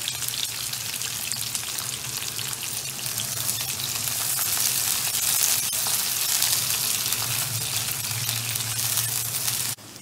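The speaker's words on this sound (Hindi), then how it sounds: "अब हमने वही तेल को, अपने दूसरे तेल को हमने इसमें सारी सब्जियां 1 से 2 मिनट बस फ्राई करनी है" Mixed vegetables frying in hot oil for a beef chili dry fry, a steady close sizzle and crackle holding an even level for about ten seconds before it cuts off abruptly near the end.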